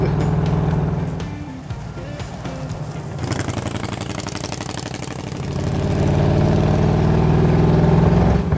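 A car engine idles with a deep, lumpy rumble, revving slightly partway through before settling back to a loud, steady throb nearby.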